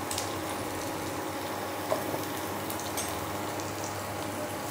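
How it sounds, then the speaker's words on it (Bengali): Dry red chillies and whole cumin seeds sizzle and crackle steadily in hot oil in a pan, a close, even frying hiss with tiny pops, no talking. "এবার একটু ভালো করে ভেজে নেব।"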